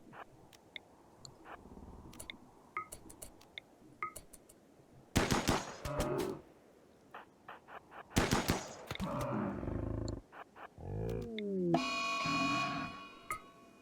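Rapid gunfire bursts from shooting at a bison in the RimWorld video game, with sharp single shots scattered early, then loud clustered volleys and sustained crackling near the end.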